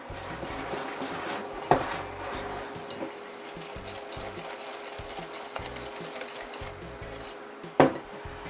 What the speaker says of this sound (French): Puis j'ajoute la maïzena. Je mélange.